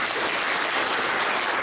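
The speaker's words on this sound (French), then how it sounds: "j'aimerais que vous les accueilliez avec une main d'applaudissement" A church congregation applauding during a Sunday service, dense and steady clapping from many hands that fills the whole stretch at an even level.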